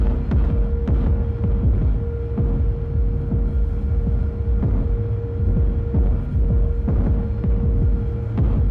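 A deep, throbbing synthesized kick drum pulses in a steady heartbeat-like rhythm, its tone shifting as a filter cutoff sweeps down, with reverb and a low hum underneath.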